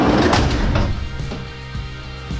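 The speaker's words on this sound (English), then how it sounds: "It's fun when you close the door." A door on an Iveco Daily campervan fitted with sound deadening shuts with one loud, dull thump at the start, then a short, muted fade with faint handling knocks afterward.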